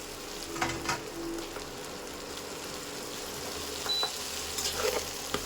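Rice being mixed into fried ingredients for a South Indian rice dish in a pan, a faint steady sizzle with a few soft spatula scrapes and clinks, quiet and close.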